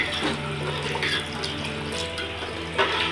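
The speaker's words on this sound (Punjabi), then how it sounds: "ਹੁਣ ਆਪਾਂ ਇਹਦੇ ਵਿੱਚ ਐਡ ਕਰਾਂਗੇ ਪਾਣੀ" Water pours steadily into a pumpkin kofta curry, a continuous splashing stream with slight variations and a brief surge near the end, no voices.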